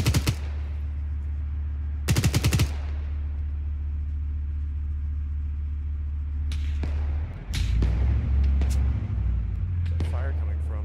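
Gunfire in the military video game Arma 3: two sharp bursts of automatic fire early on and a few later cracks over a low engine rumble, with voices on the radio talking throughout.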